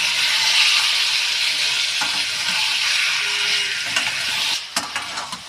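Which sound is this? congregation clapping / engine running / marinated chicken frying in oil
marinated chicken frying in oil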